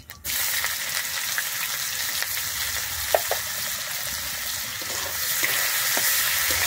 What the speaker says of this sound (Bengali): আমি এরপরে দিয়ে দিচ্ছি কুচানো পেঁয়াজ।